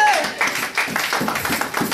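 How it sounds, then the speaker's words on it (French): A church congregation claps during a Sunday worship service, with quick rhythmic claps and mixed voices filling a short burst. "Applaudissez pour la gloire de Dieu."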